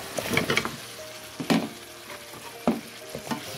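Pumpkin pieces frying with dried fish in a pan, a steady sizzle broken by several scraping stirs of a spatula, close and fairly loud with no voices.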